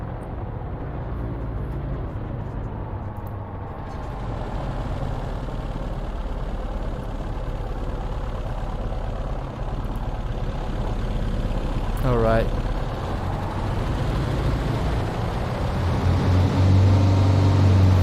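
Lockheed aircraft engines in a flight simulator video game drone steadily and loudly throughout, deepening toward the end, with someone talking over them.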